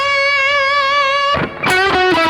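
Electric guitar run through two delays, one quarter-note and one dotted-eighth, into a large-room reverb: a sustained bright note rings out, then a burst of distorted picked notes follows with echoing repeats.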